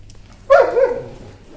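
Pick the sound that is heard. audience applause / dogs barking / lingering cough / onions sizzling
dogs barking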